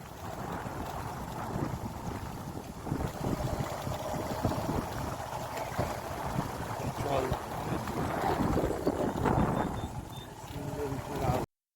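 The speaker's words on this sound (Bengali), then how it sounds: "সব জায়গা থেকে চলেছে নৌকা চলেছে" A boat travelling on open water during a Bengali village journey, with steady broadband wash and wind buffeting the microphone throughout and a voice talking over it.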